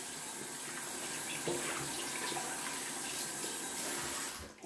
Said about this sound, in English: we're just gonna rinse a little bit off my hands